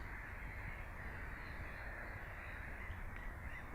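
Crows caw repeatedly from a flock in a limestone park, steady and fairly distant against a broad, continuous background hiss, with no talk.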